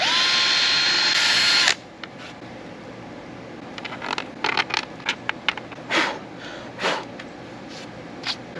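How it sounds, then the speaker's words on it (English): Power drill whirs steadily for a moment, drilling holes through a camper cover from the inside out, then stops, followed by scattered handling clatter and short bursts of rustling and scraping. "I'll be able to drill holes out for it like that from the inside out"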